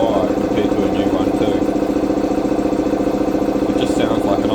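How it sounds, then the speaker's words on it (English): An old vintage air compressor engine idles with a steady, even mechanical rumble throughout, close and continuous, with a hint of faint background voices. "It just sounds like an old vintage car idling."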